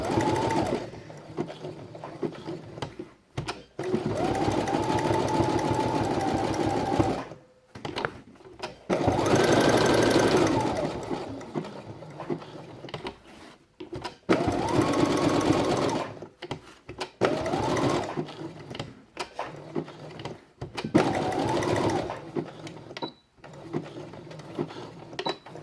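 A sewing machine runs a 2.5 mm-wide zigzag stitch around velcro on felt, sounding as several sustained whirring bursts of rapid needle chatter separated by short pauses, close and loud, with no voices.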